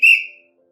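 A single sharp whistle blast, loud and close, starting strong then tailing off within half a second, with nothing else around it.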